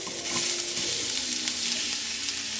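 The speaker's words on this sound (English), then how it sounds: "once your pan is hot, well, warm, I'm going to add about a tablespoon of oil. And then we're going to put our onions in." Onions fry in about a tablespoon of oil in a warm pan, a steady close sizzle with soft stirring scrapes throughout and no voices.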